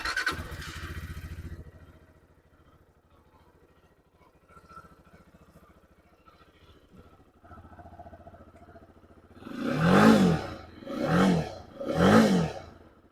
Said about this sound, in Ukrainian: Приємний та не дуже гучний звук вихлопа та двигуна.